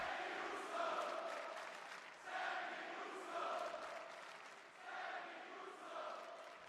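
Wrestling arena crowd in Las Vegas on a Raw night after WrestleMania, a faint, distant roar of cheering that swells and dips in waves, heard from afar without clear talk.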